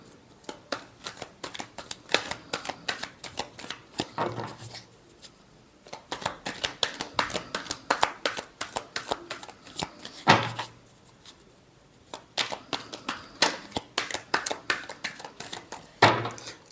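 Tarot cards being shuffled by hand in rapid crisp riffles and flicks, with bursts of fast papery clicks separated by brief pauses, close and fairly clear with no talk.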